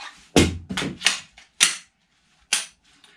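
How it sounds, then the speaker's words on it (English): Pistol reload with the slide locked back, a magazine seated and the slide released, done while wearing Mechanix Original Multicam tactical gloves: several sharp, close metallic clacks and clicks in an irregular sequence with quiet gaps between them, no talking. "I want to see if I can do a reload. So the slide is locked back."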